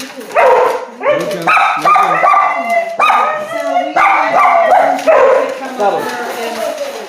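Several dogs at an animal sanctuary bark and yip in quick, overlapping bursts, close and loud, while a person talks among them.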